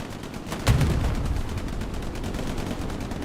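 Gunfire in the Hell Let Loose World War II shooter game during a competitive finals match: one loud crack followed by a steady wash of distant shots and battlefield rumble.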